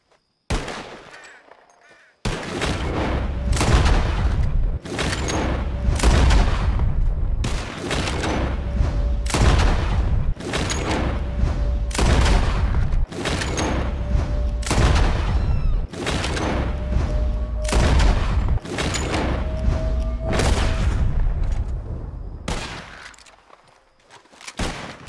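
Rapid bursts of gunfire from a Red Dead Redemption 2 shootout, loud sharp shots repeating steadily and densely for most of the stretch with brief pauses, fading toward the end.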